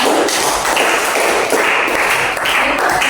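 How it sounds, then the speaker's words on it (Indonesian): Classroom of students applauding classmates, a dense, continuous burst of many hands clapping nearby, loud and steady throughout. "berikan aplaus dulu kepada teman-teman"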